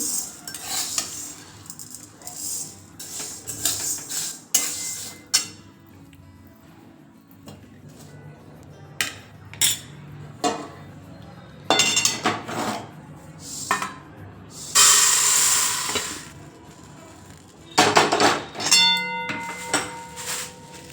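Roasted green mung beans are scraped and scooped out of a pan, giving repeated metallic clinks and rasping scrapes of a utensil against the pan in short bursts separated by quiet gaps.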